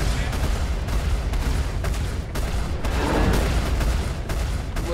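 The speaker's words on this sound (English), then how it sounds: "Let's get a couple missiles on him." Missiles launch during Star Citizen space combat, heard as dense, loud, rumbling bursts and blasts repeating through the clip over heavy ship engine roar.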